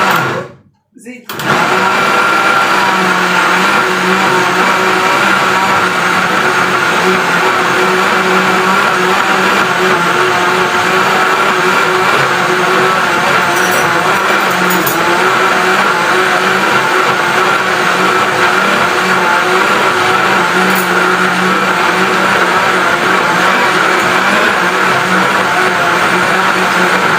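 A blender grinds pancake batter ingredients loudly and continuously after a brief quiet start, a steady whirring roar with small fluctuations.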